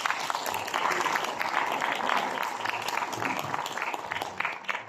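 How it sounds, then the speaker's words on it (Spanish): Audience applause at a spiritist conference talk, a dense, even wash of many hands clapping at moderate distance, sustained for several seconds without speech. "Un fuerte aplauso."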